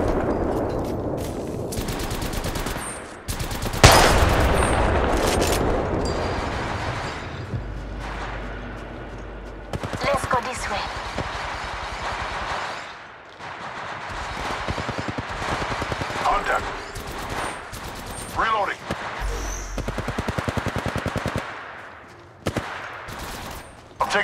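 Rapid automatic gunfire from the video game Apex Legends comes in loud repeated bursts with pauses between them, mixed with in-game voice callouts.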